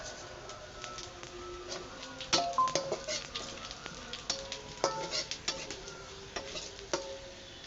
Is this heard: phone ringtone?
no